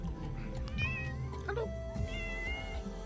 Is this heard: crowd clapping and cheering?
no